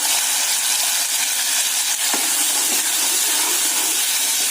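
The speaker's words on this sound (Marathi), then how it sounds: "1-2 मिनिटं चांगलं त्या वाटणाला चांगलं परतून घ्यायचं त्याच्यामध्ये तेलामध्ये" Ground spice paste stir-fried in oil for Konkani-style sweet dal, a constant dense sizzling hiss up close with a couple of faint scraping knocks, no speech.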